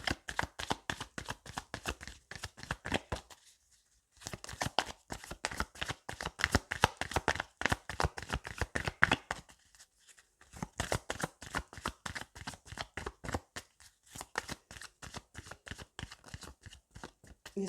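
Tarot cards being shuffled close up in quick, crisp riffling bursts, repeated several times with short pauses between them.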